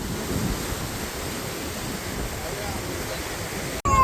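Floodwater of the swollen Indrayani river rushes past in a steady, loud, broadband roar, continuous and close, with a brief dropout near the end.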